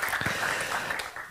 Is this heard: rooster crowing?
no